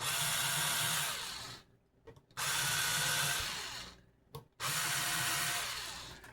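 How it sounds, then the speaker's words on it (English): A power drill whirs in three steady bursts with short pauses between them, chamfering screw holes in a red relic-style guitar body. "I am going to chamfer these holes just a little bit"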